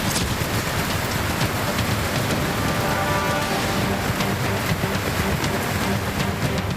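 Heavy rain pours down during a downpour in Bengaluru, a dense, loud, unbroken hiss of drops striking surfaces with scattered sharper splashes close by, and no voices.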